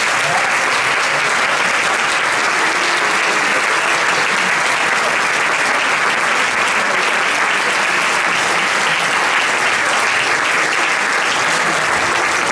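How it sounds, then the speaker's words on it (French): A jazz festival audience applauds the volunteer team loudly and continuously, a thick, unbroken wash of clapping from a large crowd at the JAZZ360 festival. "Je voudrais que vous applaudissiez très fort toute l'équipe de bénévoles de Jeunes Conservateurs."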